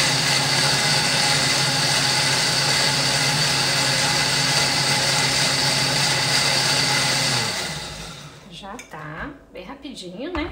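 A kitchen blender whirs loudly and steadily while mixing strawberry cheesecake ingredients, then winds down and stops near the end, followed by brief clinks and a short spoken word.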